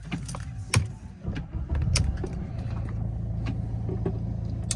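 A Mercedes-Benz E250 CDI Coupe diesel with about 137,000 miles is started after a few clicks and a brief crank, then settles into a steady low idle that continues to the end.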